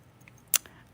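Small scissors from a knitting kit are handled quietly, giving a single crisp metallic snip or clack near the middle of an otherwise soft, faint setting.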